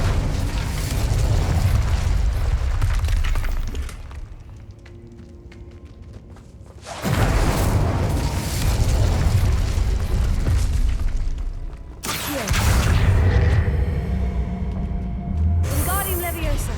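Hogwarts Legacy spellcasting with the Incendio fire spell, heavy roaring bursts of flame and booming impacts that come in long loud waves separated by quieter lulls.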